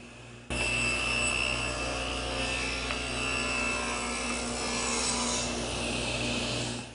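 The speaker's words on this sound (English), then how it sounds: "I can make this cut all the way through using the table saw, that's my tool of choice." A table saw rips through wood in one steady continuous cut, a sustained whirring hum with a rough grinding edge starting abruptly after a brief pause and holding evenly until the end.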